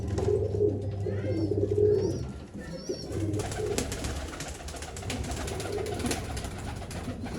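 Pigeons cooing at a pigeon sale in Bangalore: low, repeated throaty coos close by, with a few higher chirps and background rustle, and no one speaking.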